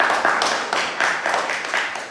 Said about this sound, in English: A round of applause for Dr. Yekemi.